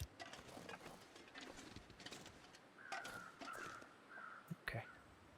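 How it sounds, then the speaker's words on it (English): Ordinary crows cawing in the snowy wilderness of the survival game The Long Dark, several drawn-out caws spaced across the second half, fairly distant over a steady windy ambient bed. "Those are normal crows, not bear crows."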